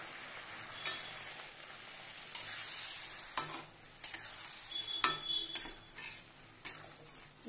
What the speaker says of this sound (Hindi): इस तरह से थोड़ा मसाला कसेंगे